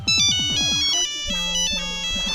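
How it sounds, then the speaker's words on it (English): Phone ringtone ringing loudly and close, a bright repeating electronic melody of rising tones followed by sustained chime notes, alone with no talking. "I'm just getting a phone call"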